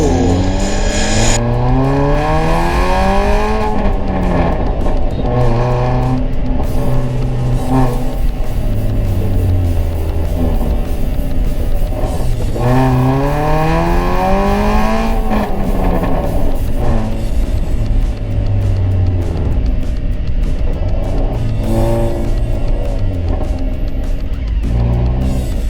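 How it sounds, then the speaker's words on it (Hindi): Modified Hyundai i20 with an aftermarket exhaust, loud and close: the engine revs and accelerates through several rising sweeps, drops pitch at gear changes, then climbs again in a long, continuous run with no talking. "आज मैं अपनी गाड़ी का एग्जॉस्ट साउंड सुनाने वाला हूँ।"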